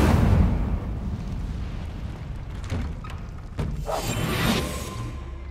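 An Incendio fire spell bursts in Hogwarts Legacy with a loud, deep booming blast at the start, then rumbling crackle and a second swelling burst of fiery noise with no talk.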